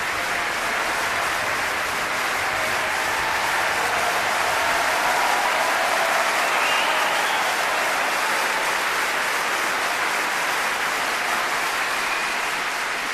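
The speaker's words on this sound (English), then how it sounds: "The audience here giving a welcome and a rapturous round of applause" Sustained, enthusiastic applause from a large concert-hall audience after a piano concerto, steady and dense throughout with no pauses.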